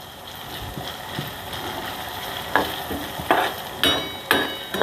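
Crushed garlic, seven or eight cloves, stirred together in a pan while making sukat chutney, a village-style dish: soft scraping and sizzling throughout, with several sharper clacks of the spoon against the pan toward the end.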